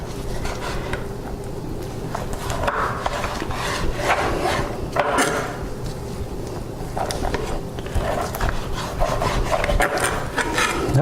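A knife slices and scrapes fat from a slab of pork ribs for competition barbecue, a steady wet rubbing and rasping that keeps up close by with small bursts of pressure throughout.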